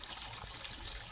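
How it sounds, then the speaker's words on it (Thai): Steady running water, a continuous hissy trickle with no pauses, fairly quiet and close. "น้ำไหล"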